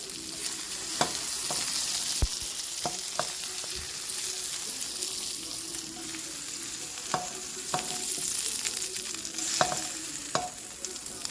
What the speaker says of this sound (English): now we're going to just gently put them in the sauce